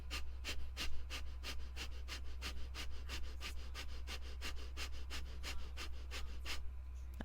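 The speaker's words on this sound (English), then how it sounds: "the point where you've done breath of fire for a while, it will sound like this." Rapid Breath of Fire yoga breathing, a steady train of about twenty quick, sharp nasal exhalations in even rhythm, close and fairly loud, with no talking.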